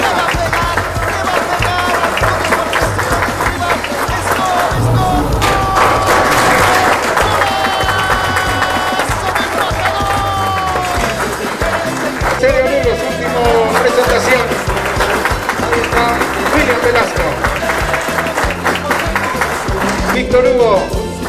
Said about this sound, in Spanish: Víctor Hugo, fuerte el aplauso para el chamaco Víctor Hugo Melgar